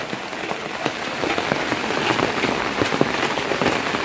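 Steady rain falls on surfaces around a home in Jaffna during a rainy afternoon, a dense, even patter with scattered close drips, heard alone without voices.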